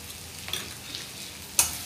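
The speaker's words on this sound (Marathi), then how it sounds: "आता आपण यात छोटा अर्धा चमचा हळद घालूया" Spices and turmeric sauté in a pan with a soft, steady sizzle, broken by faint scraping stirs and one sharper clatter near the end, heard alone without talk.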